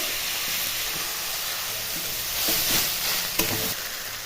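Ground turmeric, coriander, chili flakes and cumin fry in a pan with cabbage, giving a steady broadband sizzle and hiss throughout. A few faint scrapes come near the end, and no one speaks.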